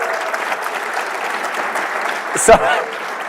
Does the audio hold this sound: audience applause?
yes